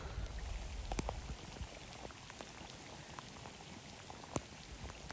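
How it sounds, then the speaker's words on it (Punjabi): Rain falls over a waterlogged rice paddy in a soft, steady hiss, fairly faint, with a few sharper drops tapping nearby and no voices. "ਦੇਖੀ ਜੇ ਬਾਰਿਸ਼ ਕਿੰਨੀ ਲੱਗੀ ਹੈ"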